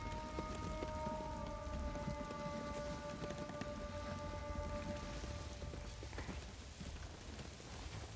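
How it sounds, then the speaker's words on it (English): Rain falling outside an open window, a soft continuous patter that stays faint and distant under a faint steady hum. "Should be raining though."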